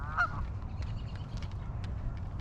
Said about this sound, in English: There's some geese making a noise.